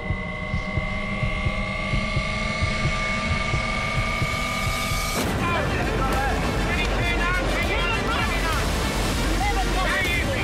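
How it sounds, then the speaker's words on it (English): Rough water roars and crashes continuously with a steady low rumble and wind, loud and close, from a racing yacht pounding through heavy storm waves. "Smashing through the waves like you wouldn't believe"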